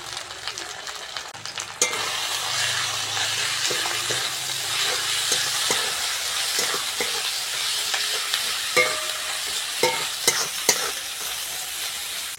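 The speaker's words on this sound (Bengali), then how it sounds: "মশলাটা ভালো করে ভেজে নিয়েছি।" Ground ginger-cumin paste with chili powder, turmeric and salt frying in a pan for a Bengali pumpkin and Malabar spinach chorchori, with a continuous sizzle and intermittent spatula scrapes and taps, close by.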